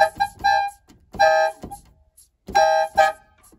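A vegetable vendor's car horn rigged to be sounded by pulling a cord, loud and near, giving several short nasal toots in uneven bursts separated by silent gaps.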